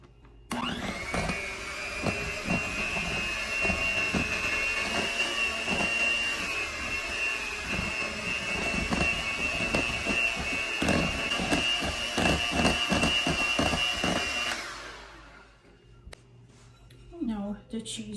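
An electric hand mixer whirs steadily as it beats cheese together with powdered sugar, a loud continuous motor drone lasting about fourteen seconds before it cuts off, with faint clicks afterward.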